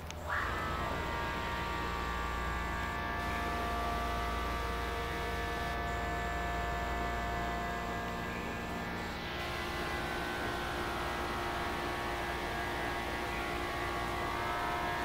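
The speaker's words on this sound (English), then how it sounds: "We're gonna listen to the motor as well." A ThyssenKrupp hydraulic elevator motor behind a vent in a San Diego continuing education building runs as a steady, low mechanical hum with a faint high whine, unchanging for about fifteen seconds, with no talking.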